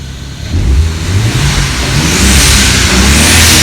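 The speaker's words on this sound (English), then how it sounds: "you can kind of hear the blow-off valves kicking off" A BMW E36 with an N54 turbocharged engine revs hard and climbs in pitch, with a loud hissing whoosh of the blow-off valves venting rising over the roar.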